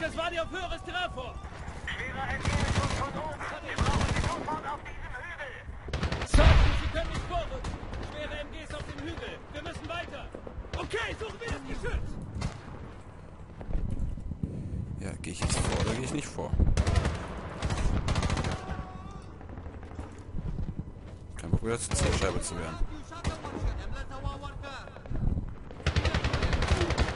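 Bursts of automatic gunfire and scattered single shots fill a Medal of Honor combat scene, irregular and loud against background battle noise, with someone speaking over much of it.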